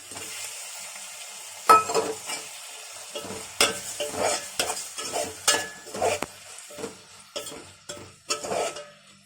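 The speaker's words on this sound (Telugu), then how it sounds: "ఇప్పుడు ఇందులో మనం రొయ్యలు వేసుకుందాం." Prawns fry with onions in a pan while a spoon stirs repeatedly, giving a soft sizzle under rhythmic scraping and clinking strokes throughout.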